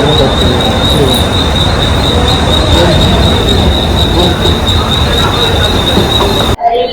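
Loud, steady rumble of a Mumbai fast local train from Kurla with a sustained high metallic wheel squeal running throughout, cutting off abruptly near the end.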